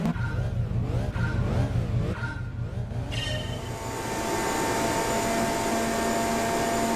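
A turbocharged car engine in Gran Turismo 7 revs and whines, pitch sweeping up and down through gear changes, then settles into a steady high drone.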